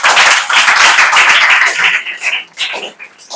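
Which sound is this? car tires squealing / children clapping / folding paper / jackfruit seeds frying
children clapping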